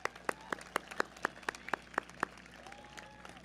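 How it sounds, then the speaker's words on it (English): Scattered hand claps from a graduation audience at Brookline High School, a dozen or so distinct sharp claps in an uneven rhythm, moderately near and fairly quiet, with faint voices underneath. "clap it up, clap it up"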